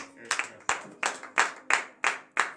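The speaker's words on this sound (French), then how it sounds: "Donc je vous demande encore une fois d'applaudir" Steady rhythmic clapping from a congregation at a Christian morning prayer service, about seven evenly spaced claps, close and fairly loud.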